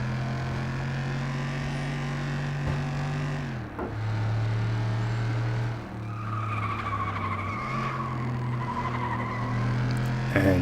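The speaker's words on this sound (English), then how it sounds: "I had some oversteer as I went through the corner" Tires squeal through a corner as a street-class car oversteers in the PS2 racing game FlatOut 2, with a steady engine drone underneath and several long skid tones rising over it.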